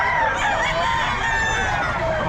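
A White Cardinal gamefowl rooster at a Bocaue gamefowl sale crows loud and close, one sustained, wavering call filling the moment over steady background noise.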